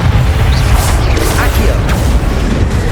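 Spell blasts of Bombarda and Confringo in Hogwarts Legacy boom and crackle in a dense, continuous barrage of low rumbling impacts, loud and close throughout.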